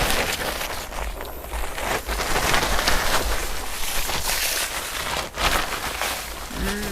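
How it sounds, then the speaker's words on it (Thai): Heavy first rain of the year pours onto a garden, a loud dense patter of drops on leaves and surfaces that continues unbroken with no voices. "สวนได้ฝนมาหนึ่งฝนแรกของปีลูกตกแรงมาก"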